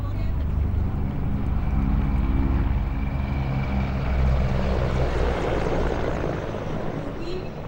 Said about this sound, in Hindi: 3 Mi-35 helicopters in big formation, flying at a speed of 240 kilometers per hour